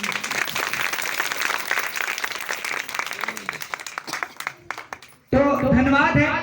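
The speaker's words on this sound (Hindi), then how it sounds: "एक बार ताली बजाइए" An audience at a Christian prayer gathering claps in a dense, lively burst of applause for about five seconds, which fades briefly before a loud voice starts speaking.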